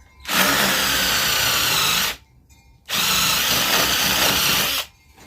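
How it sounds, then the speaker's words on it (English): Power drill boring holes into wood while building a flower planter: two sustained, loud whirring bursts of about two seconds each, separated by a short pause. "Let me get these first 2 drill holes here"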